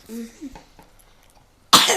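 A child coughs several times in a row, close and fairly loud, with a few softer throat sounds before a burst of rough, noisy coughing at the end.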